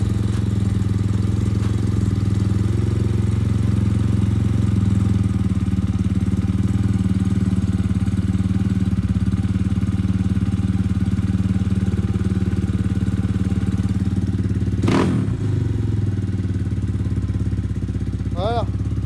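A motorcycle engine idles steadily and loud throughout with a low rumbling throb, the idle settling slightly lower partway through, joined near the end by a brief sharp knock and a faint squeak.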